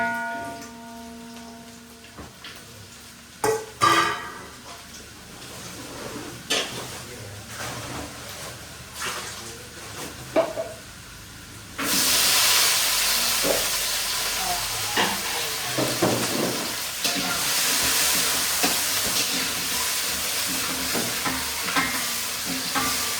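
Chopped carrots go into a hot pan for carrot and pea rice: sparse clatters and taps of stirring at first, then a loud, steady sizzle of frying that continues with occasional scraping.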